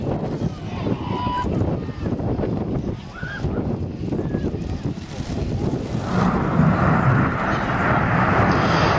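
A synchro pair of display jets flying low at an air festival, a loud broad roar that builds and swells toward the end, with wind buffeting the microphone and a commentator talking over it.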